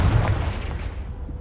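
A Confringo spell blasts in Hogwarts Legacy as a single booming, explosive burst that hits hard at the start and fades into a rumbling tail, with no voice over it.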